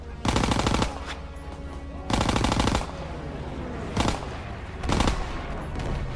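Heavy bursts of automatic gunfire in the Call of Duty WWII video game, with two long rattling volleys and shorter sharp bursts, loud and close, separated by quieter battle noise.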